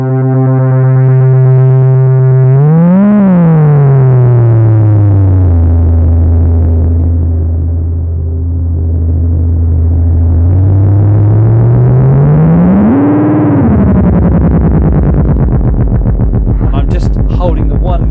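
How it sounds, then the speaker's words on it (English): A Korg MS-20 mini synth holds one key while a dub-style delay with heavy feedback repeats and smears the tone, its pitch sweeping up and down in long swoops, loud and continuous, with crackly repeats near the end. "if you want to do any dub effects, then you can just set it so you've got a nice short sound here"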